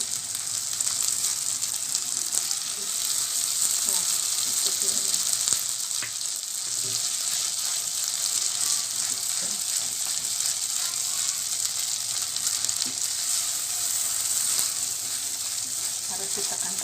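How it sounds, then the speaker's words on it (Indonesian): Chili paste sizzles and fries in a hot pan as water goes in, a loud, steady hiss that holds for the whole stretch with faint stirring scrapes beneath it. "Setelah kering kayak gini, masukkan air biar enggak"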